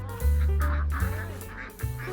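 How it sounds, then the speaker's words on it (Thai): Ducks at a farm in Chiang Rai quack loudly and close by in several drawn-out, nasal calls, one after another, with no talking over them. "แล้วก็น้องเป็ดอะ เขาน่ารักมากๆ"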